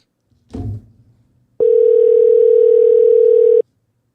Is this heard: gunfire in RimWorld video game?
no